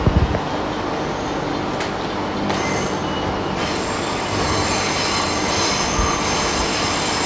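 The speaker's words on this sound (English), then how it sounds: "the train is moving again" A Transperth train rolls steadily along the rails between Claisebrook, McIver and Perth with a constant rumble, broken by sharp metallic squeals from the wheels.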